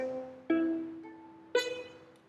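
Ukulele plucked quietly from a riff, two separate chord strikes about a second apart, each ringing out with clear sustained notes that slowly decay.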